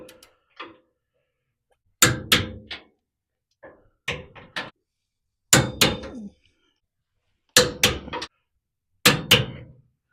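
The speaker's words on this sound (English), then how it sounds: "the only thing left to do is torque all the bolts to 110 foot-pounds" Torque wrench clicking as the trailer hitch bolts on a Ford Ranger are tightened to 110 foot-pounds: close, sharp clicks and clunks in short clustered bursts separated by silence.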